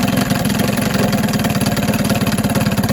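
A 1975 Mercury 4 hp outboard motor running steadily at close range, a loud, even, rapid chugging idle with a constant buzzing tone and no letup.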